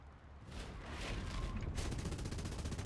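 A biplane's machine guns fire in War Thunder, a dense rattling burst that swells and holds over a loud engine roar, continuous and close.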